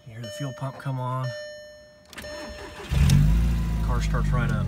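A 2003 VW Golf GTI 20th Anniversary Edition engine cranks and catches around the midpoint, then settles into a loud, steady idle close by, with a person talking over the start.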